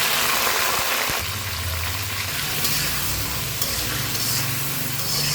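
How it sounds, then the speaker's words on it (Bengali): Chopped vegetables fry in oil with turmeric and salt in a kadai, a loud continuous sizzle with occasional stirring scrapes and bursts of spitting. "সবজিগুলো কেটে ধুয়ে নিছি, এখন এগুলো আগে একটু হলুদ লবণ দিয়ে ভেজে নেব"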